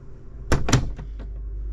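Cabin door on an Albin 32+2 trawler yacht swinging shut with its latches, two sharp close clicks followed by a couple of softer knocks, near and clear in a quiet interior.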